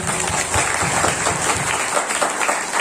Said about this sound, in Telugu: చప్పట్లు కొట్టండి సంతోషంగా.